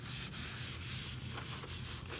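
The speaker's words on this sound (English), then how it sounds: "I'm going to take this and with the flat of my hand just lightly rub around" A flat hand lightly rubbing around the edges of an inked intaglio printing plate, a close, continuous soft swishing with faint rhythmic strokes.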